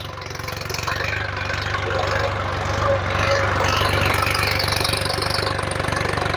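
A Sonalika DI 745 III tractor pulls a plough in a field competition, its engine running with a steady, loud diesel knock and low throb throughout.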